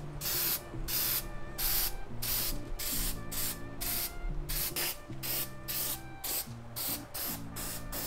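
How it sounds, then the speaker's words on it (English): Repeated bursts of matte spray paint from an aerosol can, hissing in short pulses with brief gaps, over a low mechanical hum. "So we're gonna spray that, and we'll see how that goes."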